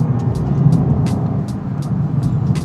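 An Alpina B3 driven fast on a bumpy, undulating road gives a steady, loud rumble of engine and tyre noise, with a few brief higher ticks scattered through it and no talking.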